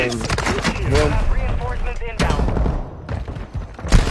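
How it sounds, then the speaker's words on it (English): Video game gunfire crackles in several close, sharp bursts, mixed with voices talking over the shots. "Shooting"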